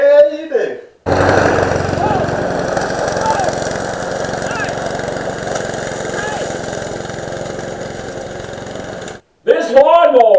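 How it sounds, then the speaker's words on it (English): Self-propelled lawn mower engine running steadily for several seconds, a loud continuous mechanical drone cut off abruptly near the end, with a voice briefly heard before and after. "This lawnmower has a self-propel on it, and it propelled me, and it just kept on going."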